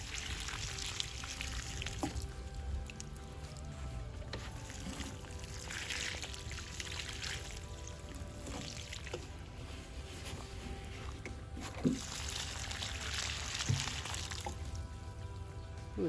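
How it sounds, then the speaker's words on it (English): Water gushes steadily from a can or hose onto freshly planted chrysanthemums in a garden bed, a continuous splashing pour with brief louder surges, close by, with no talk. "Ooh, it's making a gushing."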